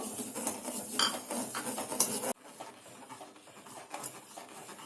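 A spoon scrapes steadily around a pan of thickening custard mixture for custard fruit salad, a close, continuous rubbing and clinking that turns quieter partway through.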